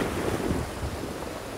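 Sea waves wash up on a beach in a brief, close surge of breaking surf mixed with wind buffeting the microphone, fading a little after the first half.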